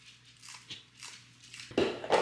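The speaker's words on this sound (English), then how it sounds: "I'm gonna cut on some green onions." Green onions are sliced with a knife in a home kitchen while a Thai-style red curry dish with coconut milk is prepared, giving a few soft, irregular crunchy chops that end in two louder, close cuts.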